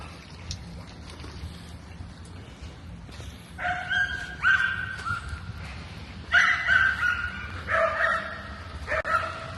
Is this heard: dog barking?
yes